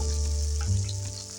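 Hilsa fish frying in hot oil with garlic, giving a steady, close sizzle and crackle that swells briefly midway and carries on without any talking.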